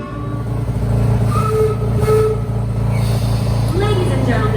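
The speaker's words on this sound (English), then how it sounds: "Alright, train's here." A train at Busch Gardens Virginia rumbles in with a low steady roar and metallic squeals, and voices murmur faintly in the background.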